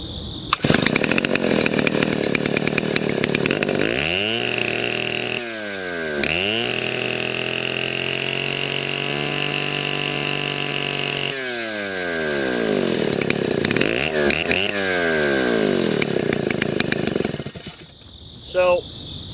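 A Chinese YZ6200 chainsaw with a hard-nosed bar revs loudly near the listener at high RPM, its engine pitch sweeping up and down through several throttle bursts, dropping back twice, then cutting off abruptly at the end.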